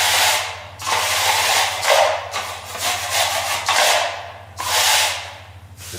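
A putty knife scrapes across a second coat of filler on a ceiling in long, rasping strokes, several passes separated by short pauses, with a steady low hum beneath.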